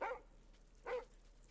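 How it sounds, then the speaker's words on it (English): A dog inside the video game Lorelei and the Laser Eyes gives two short, faint barks about a second apart against a quiet background. "The dog's barking."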